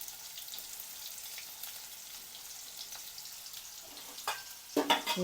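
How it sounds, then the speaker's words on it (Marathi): Cumin, a few garlic cloves and onion fry in a spoonful of oil in a wok for stuffed okra. A faint, even hiss of oil gives way near the end to a few louder crackles and stirring clinks. "दोन उबळे तेल टाकायचं एक चमचा जिरे दोन तीन पाकळ्या लसणाच्या नंतर कांदा"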